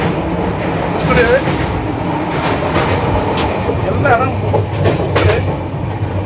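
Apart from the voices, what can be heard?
Bhubaneswar Chennai Express train running on rails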